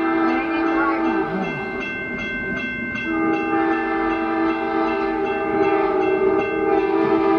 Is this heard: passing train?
yes